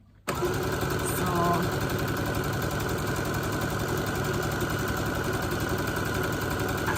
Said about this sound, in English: Just sewing it down, sewing it down, sewing it down.